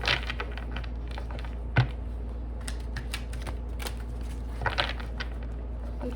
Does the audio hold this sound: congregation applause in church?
no